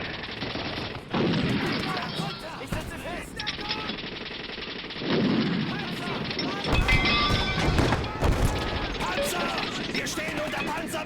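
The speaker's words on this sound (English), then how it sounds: "Panzer! Wir stehen unter Panzerbeschuss!" Combat gunfire with tank fire and rapid machine-gun bursts, loud and dense, with heavy blasts and crackling volleys under shouted voices.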